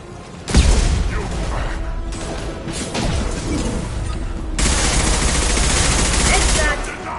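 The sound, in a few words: gunfire from squads in video game Mass Effect 2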